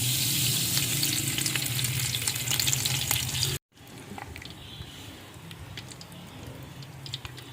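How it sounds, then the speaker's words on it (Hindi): Desi ghee melts and sizzles in a pan for dal, a steady, close frying hiss that drops out abruptly partway and then resumes more softly, with no talking. "घी को हम मेल्ट कर लेते हैं।"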